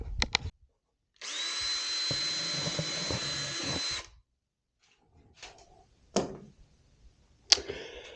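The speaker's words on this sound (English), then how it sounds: "Gonna put a hole in it, doesn't really matter where." A power drill whirs steadily for about three seconds while drilling a hole in cardboard, followed by a few scattered knocks and scrapes of handling.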